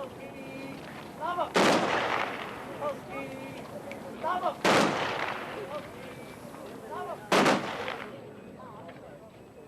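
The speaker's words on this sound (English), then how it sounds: "Three masked men stepped forward and obeyed orders in Irish to fire a three-volley salute" Three volleys of rifle fire from masked men giving a graveside salute at a hunger striker's funeral, each sharp crack evenly spaced several seconds apart over a murmuring crowd with talk underneath.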